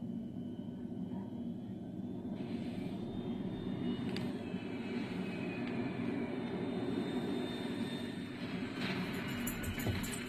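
A fixed-wing airplane in a video game, a low continuous engine drone and rumble that holds steady and fairly faint throughout, with a few brief higher clicks.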